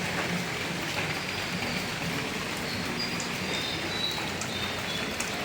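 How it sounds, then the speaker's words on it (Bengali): Heavy morning rain falls as a steady, soft hiss, fairly faint and continuous, with a few faint bird-like chirps above it and no one speaking. "প্রচুর বৃষ্টি হইতেছে সকাল থেকে।"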